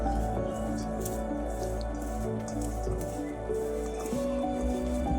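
Sweet potato pieces mixed by hand with spices including cumin, moist squishy and dripping sounds, close and continuous over a low background hum.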